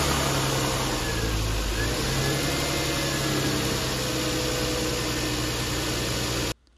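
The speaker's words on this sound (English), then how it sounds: "it's time to start the engine up" A Lexus GS 300 engine with a 2JZ-GE inline-six runs steadily with a low rumble and broadband hiss, holding a constant loud idle until it cuts off abruptly near the end.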